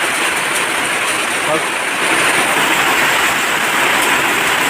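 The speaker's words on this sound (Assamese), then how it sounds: "ইমান বৰষুণ দিছে আৰু আপোনাৰ শিল পৰিছে হে আৰু এইফালে লগত বতাহো আহিছে" Heavy rain falls with hail and wind, a dense, loud, continuous roar of water and impacts throughout.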